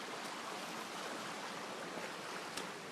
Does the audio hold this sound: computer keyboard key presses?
no